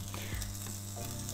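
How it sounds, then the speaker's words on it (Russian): Bacon sizzles and fries in an ungreased frying pan, a quiet, steady crackle with faint stirring or scraping touches and no voices. "Бекон перекладываем на сковороду."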